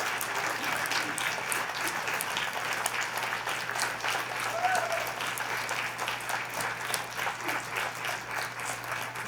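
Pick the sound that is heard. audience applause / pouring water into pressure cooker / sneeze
audience applause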